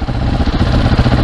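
A supermoto motorcycle engine runs loud and close with a steady, throbbing idle that carries a rough, clattery texture and no talk over it.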